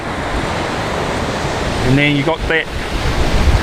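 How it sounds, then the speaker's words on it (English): Surf breaks along a beach gutter and outer sandbank in a steady, loud, wash-like roar, with wind on the microphone and someone speaking briefly over it. "It's got an outer bank where those outer waves are breaking"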